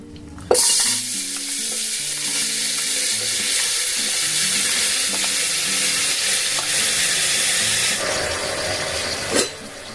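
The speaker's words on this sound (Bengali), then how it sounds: "তো চলুন, তেল গরম হয়ে গেছে, এটা এবার দিয়ে দিই।" Food is added to hot oil and fries with a loud, dense sizzle that starts abruptly and continues steadily, with a few clatters from a pan or utensil, near and without talk.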